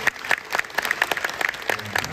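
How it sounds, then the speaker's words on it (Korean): An audience at a business conference lecture applauds in a brisk, scattered patter of many hands, moderately loud and close, with a brief voice near the end. "그러니까 여러분 스스로에게 박수 한번 주십시오"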